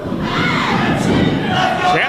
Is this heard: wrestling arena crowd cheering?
yes